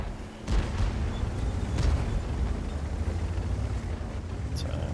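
Tank cannon shots from a two-shot auto-loader in a World of Tanks-style battle, a couple of dull booms over steady engine and battle rumble, with a commentator talking throughout.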